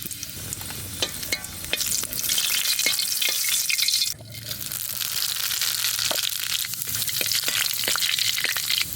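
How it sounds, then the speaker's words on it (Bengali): Dried red chillies crackle and fry in hot mustard oil as a tempering for a village-style taro leaf dish, a dense close sizzle with stirring scrapes throughout and a brief dip partway through, no voices. "সর্ষের তেল কচু শাক রান্না করব প্রথমে দেবো শুকনো লঙ্কা ফোড়নে"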